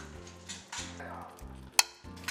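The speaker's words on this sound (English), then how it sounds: "I'm just gonna stir that all in, and when it cooks down, it's gonna have a wonderful color" Beef patty filling meat browned with browning caramel, stirred in a pan while it sizzles and fries, with soft scraping strokes of the spoon and a sharp clink of utensil against the pot.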